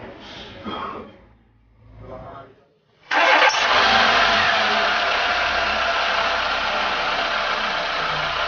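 A person speaks briefly, then a Dacia Logan petrol engine, just fitted with a new flywheel sensor, cranks and catches abruptly. It settles into a steady, close idle that continues to the end.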